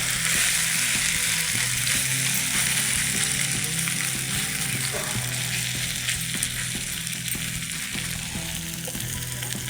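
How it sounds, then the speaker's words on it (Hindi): Chicken and beef shots hit a hot sizzler pan, giving a loud, steady, hissing sizzle with faint stirring clinks throughout. "और ये देख सकते हैं सिज़लर की रेसिपीज़ में ये जो आवाज़ आती है ना"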